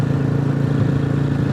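A Royal Enfield Classic 350 motorcycle engine cruising in fourth gear holds a steady, even drone at constant revs, loud and close, with no change in pitch and no talking.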